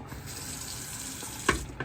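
Water runs steadily from a freshly repaired sink faucet, a soft continuous hiss with a couple of brief splashy surges near the end and no voices.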